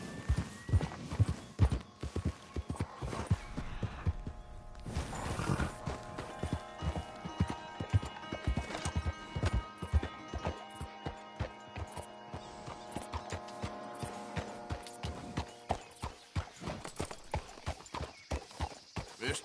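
Horse hooves in Red Dead Redemption 2 clop in a fast, regular galloping rhythm, close and clear, with an occasional whinny and a sustained musical tone underneath.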